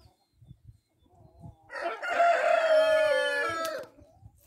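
A rooster in an enclosure of dark Brahma and Wyandotte chickens gives one long, loud, close crow lasting about two seconds, with faint scattered clucks and scratching before it.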